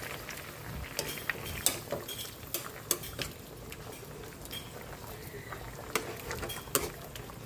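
Cream of mushroom being stirred into pork in a pan: a steady bubbling simmer with repeated metallic clinks and scrapes of a spoon against the pan at an irregular rhythm, close by, with faint background voice.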